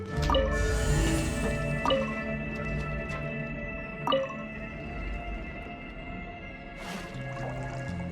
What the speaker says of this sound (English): The water level's gone way up!